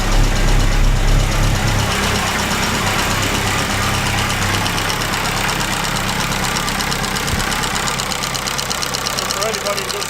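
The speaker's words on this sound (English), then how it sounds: "you can see it's targeting that 1000 RPM value. So it proves it is idling by itself." A Monte Carlo car engine idles steadily near 1000 RPM, a continuous close, fairly loud rumble with a brief rougher stretch at the start and no pauses.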